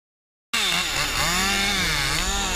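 A chainsaw cutting trees for a tree service starts abruptly after a short silence, then runs loud and steady at full throttle with a harsh buzzing whine that rises and dips slightly as it bites into the wood.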